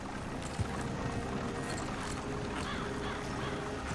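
Horse hooves clip-clop steadily in Red Dead Redemption 2, a continuous moderate rhythm under a dense wash of outdoor ambience.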